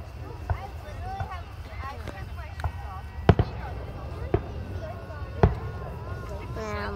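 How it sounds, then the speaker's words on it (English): Sharp fireworks bangs pop at irregular intervals over a steady low rumble, several distant and a few louder close cracks, with voices chattering underneath. "look at all those juicy, tender fireworks"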